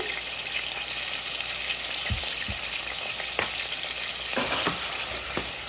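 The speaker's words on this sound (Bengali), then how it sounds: "তারপরে একটু নেড়ে চেড়ে নিলাম" Chopped garlic and salt sizzle steadily in a frying pan, with a few sharp scrapes and knocks of a spatula stirring them through the hot oil, close and moderately loud with no talk.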